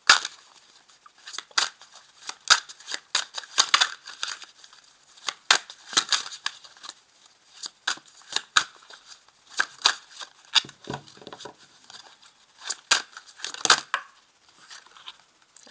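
Tarot cards shuffled and handled close by during a reading, a run of crisp papery riffles, snaps and slides in irregular bursts, with no talking over it.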